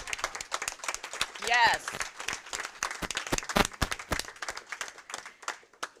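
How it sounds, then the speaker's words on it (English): Audience clapping at a mayoral candidates forum in Hartford, a scattered round of applause with a cheering whoop, mixed with a voice talking over it. "give you a round of applause for being here"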